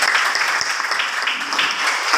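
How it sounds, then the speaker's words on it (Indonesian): Classroom applause from students, a steady dense patter of clapping hands filling the whole moment, fairly loud and close with no talk over it. "berikan tepuk tangan"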